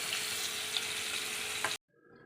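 Chicken pieces fry in a pan with a bright, continuous sizzling hiss that cuts off abruptly, leaving only a faint low background.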